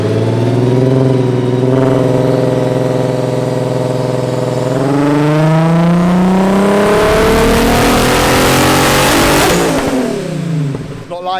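A tuned car engine on a dyno revs hard in one long pull, its pitch climbing steadily to a loud roar near the top before backing off, close and dominant.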